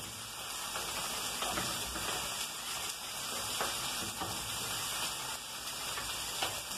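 Wine reducing and onions sautéing in a pan for a vegetable lasagna, a steady close hiss and sizzle that runs evenly throughout with no talk.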